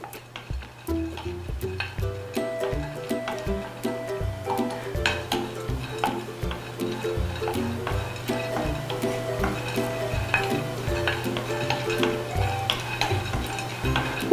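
Walnuts rattle and scrape in a pan as they are stir-roasted, with steady rhythmic clinks of a utensil over a low, continuous sizzle.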